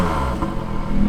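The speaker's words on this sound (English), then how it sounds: "You can open up the exhaust and make it more throaty sound." A brief, loud, throaty Lotus sports car engine rumble from an open exhaust, holding a deep growl with a slight rise at the end.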